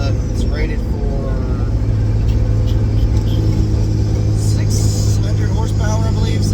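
A 2004 Dodge Ram with a 5.9 Cummins diesel engine towing a heavy load in overdrive, with a loud, steady low rumble running throughout and someone talking over it.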